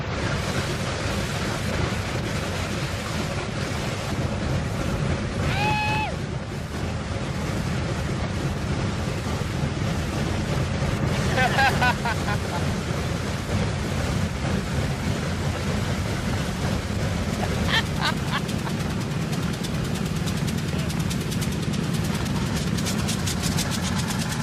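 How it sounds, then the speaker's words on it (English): A Boeing B-29 Superfortress bomber's piston engine turns over and runs, a steady low rumbling drone throughout with brief higher whines and clanks, loud and continuous with no talking. "the first engine is turned over"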